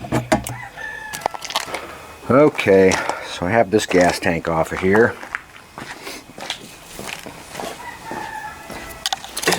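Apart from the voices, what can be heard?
chicken crowing and clucking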